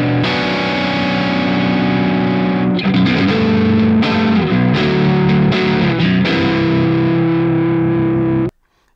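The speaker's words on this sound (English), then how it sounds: "So now we have a pretty much stock preset with the built-in IR." Distorted metal guitar through a Mooer GE150 processor on a stock preset with its built-in IR, heavy sustained chords then choppy palm-muted riffing, loud and close, ending abruptly.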